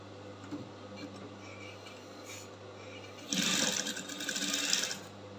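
A sewing machine stitches a fabric flounce for a bustier, a steady low motor hum that bursts into a louder, faster run of close stitching near the end, with no talk.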